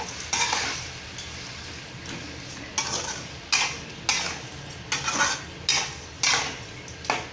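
A pan of tomato curry with rock salt being stirred: repeated scraping, clattering strokes of a spoon against the pan come in a loose rhythm over a soft, steady sizzle, close and fairly loud, with no talking.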